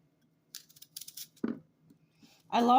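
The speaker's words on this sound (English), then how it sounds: "I am just going to cut it in half." Produce being sliced in half for a black bean corn salad: a few quiet knife cuts and a firmer chop against a board, followed by the start of a voice.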